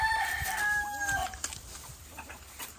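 A young rooster (stag) crowing close by, one drawn-out crow with wavering high tones that fades, followed by quieter rustling.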